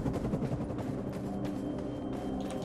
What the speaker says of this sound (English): Good explosion.